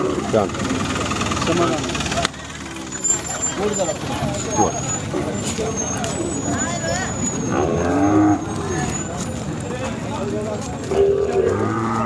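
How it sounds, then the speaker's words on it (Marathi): A Khillar cow moos repeatedly and loudly close by at a cattle market in Sangola, over an idling engine rumble and people talking in the background. "गरीब आहे शांत आहे गाय"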